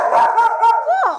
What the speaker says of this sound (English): That's why they were barking at me